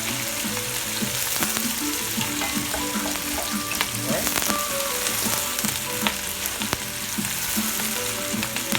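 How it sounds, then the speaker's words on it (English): Pieces of pork pan-frying until golden brown for dinuguan, a dense, steady sizzle with crackling pops and light stirring knocks, close and continuous with no talk. "Just pan fry them until they get golden brown."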